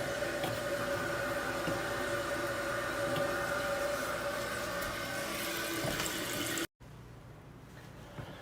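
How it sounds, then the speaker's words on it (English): Water rushing through a toilet's fill valve tower into the tank, a steady hissing flow with a faint whine that runs for several seconds before cutting off, followed by a quieter room tone. "You'll hear the water coming in through your fill valve tower"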